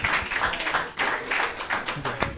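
An audience at a computer science department alumni homecoming claps steadily for a couple of seconds, a dense, fairly loud patter of many hands with gently pulsing intensity.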